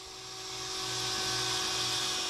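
Power saw cutting Lifeproof vinyl plank flooring, a steady high whining buzz that swells slightly and holds at close range, with no speech.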